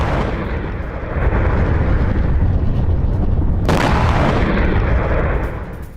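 A drone strike in Kharkiv sets off a heavy, continuous roar of blast noise. Loud low rumbling swells after the first second, a sharp burst cuts through midway, and the roar fades near the end.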